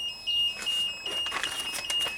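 A thin, high-pitched electronic warning beeper tone from a Genie boom lift sounds continuously, fairly faint, with scattered clicks and clattering noises over it.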